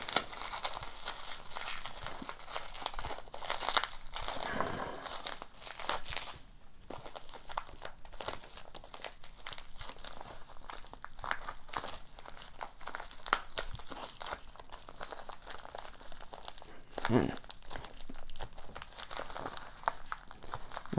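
A heavily packed trading card mail package being unwrapped, with continuous close crinkling and crumpling of wrapping and tape, plus occasional tearing and crunching bursts throughout.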